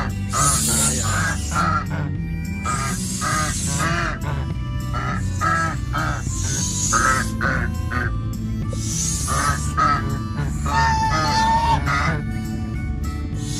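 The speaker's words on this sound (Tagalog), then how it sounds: "So ito yung gansa." Loud, repeated honking calls in an irregular rhythm, close by, over a constant low rumble of background noise.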